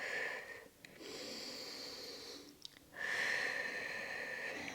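A slow breath out during a modified child's pose in Pilates while holding a Magic Circle, soft and airy, in long sustained exhalations with two brief pauses.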